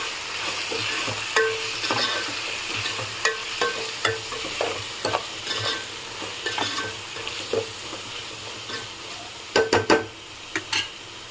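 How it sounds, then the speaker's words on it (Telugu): A spoon stirs kichidi with coriander powder, turmeric and salt in a hot pan, the mixture sizzling steadily. Scraping strokes and metallic clinks against the pan recur throughout, clustering into a quick burst near the end. "ఒకసారి మొత్తం కలుపుకుందాం."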